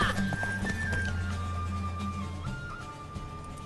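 Horse hooves in the video game The Witcher 3, a mare running at a steady pace under sustained game music, with a voice briefly present.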